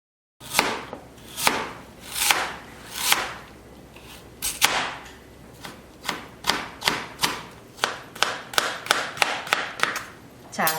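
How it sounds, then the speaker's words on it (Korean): A kitchen knife slices Korean radish about 0.3 cm thick on a cutting board, producing close, crisp thuds that start slow and spaced, then quicken into a steady run of roughly two dozen cuts. "무는 좀 굵직하게 썰어서 준비하시면 좋을 것 같은데요"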